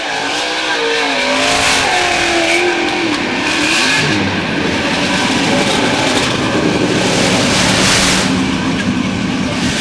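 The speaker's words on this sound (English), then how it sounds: "Heat race number 3 pushing off here tonight at the 10th annual ClydeWood Memorial." Dirt track race cars push off for a heat race at the 10th annual ClydeWood Memorial, with loud continuous engine roar and revving throughout, engines whining and rising in pitch as the cars get underway.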